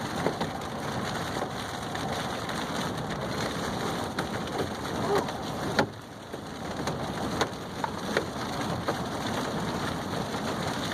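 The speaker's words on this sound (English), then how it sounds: "It's either hail or one of the straps on the tent flopping around." Rain drums steadily on an overlanding vehicle with a rooftop tent, and a loose tent strap bangs against it now and then in a few sharp, irregular knocks.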